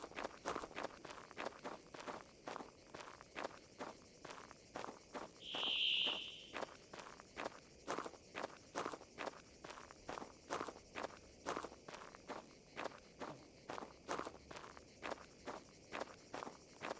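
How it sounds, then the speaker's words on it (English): Footsteps of a creature in the video game Prehistoric Hunt, a steady rhythmic stream of heavy thudding steps continuing throughout, with a brief tonal beep in the middle. "I can hear his footsteps"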